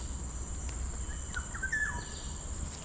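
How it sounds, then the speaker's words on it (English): Birds calling from trees along a quiet forest trail, with a few faint high chirps and whistles over steady insect-like hiss and low background rumble. "it's a very quiet place except for the birds on the trees making some noise"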